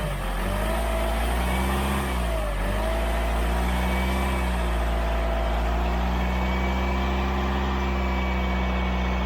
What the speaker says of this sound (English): Give it a rev up to 2000.